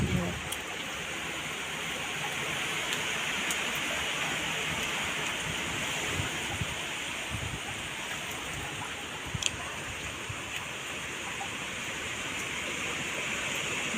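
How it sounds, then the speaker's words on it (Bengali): Heavy rain from a storm outside pours steadily as a dense, even wash of noise with a few sharper drips and knocks, with a voice faintly present underneath. "বাইরে প্রচণ্ড পরিমাণে যে ঝড় হচ্ছে, দেখুন বৃষ্টির সাথে সাথে"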